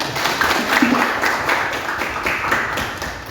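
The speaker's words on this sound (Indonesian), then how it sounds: "tepuk tangan" Students in a class applaud after a classmate's answer, a brief, moderately loud burst of scattered hand claps close by, with no talking.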